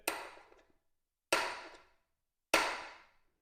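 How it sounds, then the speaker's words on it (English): Three light hammer taps seat an anodized insert into the head of a Floorex 480 Satellite concrete floor grinder. Each is a sharp, fairly close metallic knock with a short ringing decay, evenly spaced about a second apart. "light tap there with the hammer, light tap there with the hammer"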